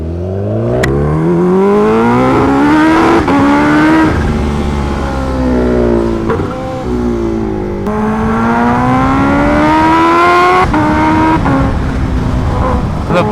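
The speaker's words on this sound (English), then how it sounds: "Finally, the first ride of 2025 on my beautiful H2R." A Kawasaki Ninja H2R motorcycle rides at full power, its engine loud and close as it revs hard and climbs through several gears. The pitch rises sharply within each gear and drops briefly at each shift.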